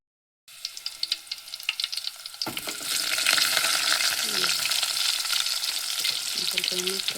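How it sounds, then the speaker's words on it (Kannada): Oil sizzling in a pan while frying for biryani, starting with scattered crackles and then rising into a loud, steady frying hiss with some stirring sounds, close to the listener. "ಸ್ವಲ್ಪ ಎಣ್ಣೆ ಹಾಕಿ ಎಲ್ಲ ಚೆನ್ನಾಗಿ ಎಣ್ಣೆಯಲ್ಲಿ ಫ್ರೈ ಮಾಡಿಕೊಂಡು ಸ್ವಲ್ಪ ಬಿರಿಯಾನಿ ಮಾಡ್ಕೊಬೋದೇನು"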